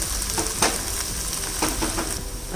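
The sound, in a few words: ginger garlic paste sautéing in oil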